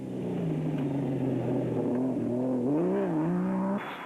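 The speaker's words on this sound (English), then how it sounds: "As for Woolridge and Schultheimer in the 4-litre Ford Ranger, they were piling on the speed and the pressure" A 4-litre Ford Ranger rally truck in the Sugarbelt 400 accelerates hard, its engine note climbing steadily in pitch with a brief rise and dip before cutting off near the end; loud, continuous and close, with no talk.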